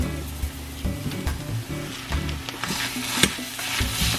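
Ground pork browns in a hot pan with sautéed onions, giving a constant loud sizzle broken by repeated scraping stirs of a utensil.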